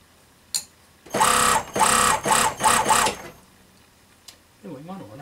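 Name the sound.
sewing machine stitching a fur stole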